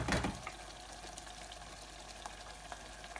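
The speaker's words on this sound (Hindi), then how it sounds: "जब ये तेल ऊपर आना स्टार्ट हो जाए तो हम डालेंगे हमारे पिसे हुए टमाटर" Ground tomatoes fry in hot oil for a lamb and potato curry, giving a soft, steady sizzle with a brief louder splash at the start.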